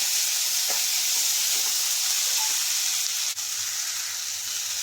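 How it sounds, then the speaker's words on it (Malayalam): Tomatoes and sausage fry with a pinch of salt in a hot pan, giving a steady, loud, close sizzle and hiss that runs throughout with no talking. "നമുക്ക് നമ്മുടെ തക്കാളിയും കൂടെ ചേർത്ത് കൊടുക്കാം."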